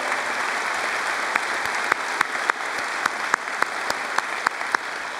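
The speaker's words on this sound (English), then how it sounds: "How about a round of applause for all those students who engaged in our AP program?" A graduation audience at Chaska High School applauds AP students, a dense, steady wash of clapping from a large crowd with a few sharper individual claps standing out, loud and sustained throughout.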